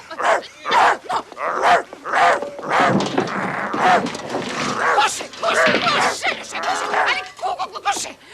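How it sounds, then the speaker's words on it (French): Dog barking in a French comedy film, a quick series of short, close, loud barks and yips in an uneven rhythm, mixed with voices. "le chien fait ouf, ouf"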